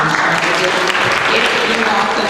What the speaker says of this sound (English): If you could please refrain from applause